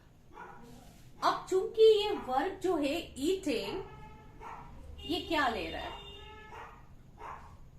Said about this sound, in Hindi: मेरा कुत्ता बहुत भौंक रहा है